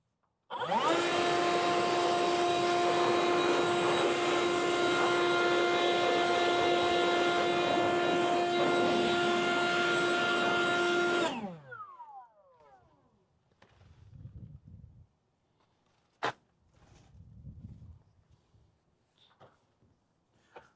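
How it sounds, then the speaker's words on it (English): A leaf blower runs loud and steady for about eleven seconds, clearing mouse droppings from a small engine that has sat unused for a year, then shuts off and winds down, leaving scattered quieter handling noises. "I'm gonna get the blower, blow this off real quick."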